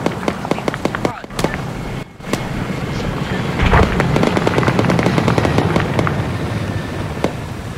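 Enemy machine gun fire in a military shooter set in Chernarus, rapid sharp bursts of shots crackling close and loud, with sustained rumbling gunfire between volleys and a voice speaking over it.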